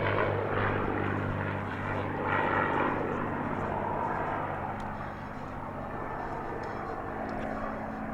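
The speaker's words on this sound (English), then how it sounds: "The D model Mustang was the most built and was able to fly at speeds over 400 miles per hour." Two P-51D Mustang propeller fighters flying a formation pass at the 2023 Airpower Over Hampton Roads air show, a loud, steady piston-engine roar with low harmonic drone that fades slightly toward the end.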